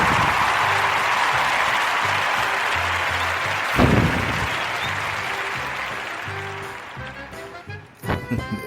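Audience applause fills a room as a dense, loud wash of clapping that slowly thins and fades, with a few scattered claps and rustles near the end.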